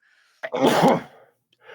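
A single sharp sneeze from a man in a sports-talk podcast setting, a quick intake followed by a loud, close burst, with faint sound trailing after.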